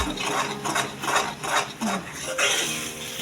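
Egg bhurji mixture with salt, onion, chilli, coriander and tomato stirred in a pan over high gas heat: rhythmic scraping and clinking strokes in a steady series, close and fairly loud.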